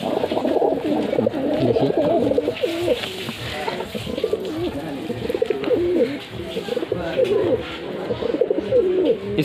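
Madrasi pigeons coo repeatedly in a loft in Kolkata, a steady layered murmur of low throaty calls close by, with someone speaking briefly over them.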